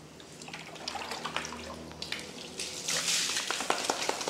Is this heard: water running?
yes